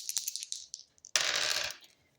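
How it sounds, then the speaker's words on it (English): Dice rattle and tumble during a tarot-style reading, a short clatter followed by a longer rolling burst, close and fairly quiet with no voice. "rolling the dice to see what I need to shuffle the deck to"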